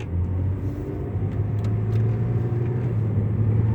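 A car fitted with a 1JZ twin-turbo engine cruises along, giving off a steady low rumble and drone throughout a short stretch with no voices.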